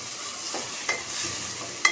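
Onion and tomato stir-frying in a steel kadai, a steady close sizzle broken by a few brief scraping stirs of a spoon against the pan.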